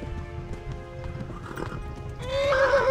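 Horse in the video game Kingdom Come: Deliverance, hooves clip-clopping at a quick steady rhythm before a loud, close whinny rises and trails off at the end.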